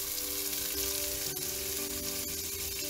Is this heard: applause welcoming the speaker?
no